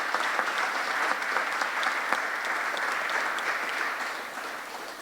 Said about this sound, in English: I'd love to have a big round of applause and thank you for Matthew, Yui, Tim and Craig